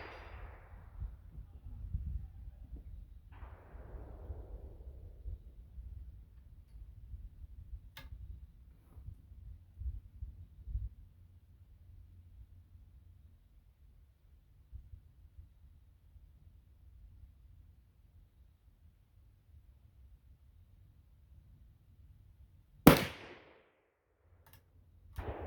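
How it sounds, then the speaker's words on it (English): A single sharp, loud crack from a #2 Remington sporting rifle in .25-25 Stevens loaded with Blackhorn 209 powder, fired outdoors after a long quiet stretch, with a few fainter thumps earlier. "I'm going to take 5 shots with these Blackhorn 209 cartridges"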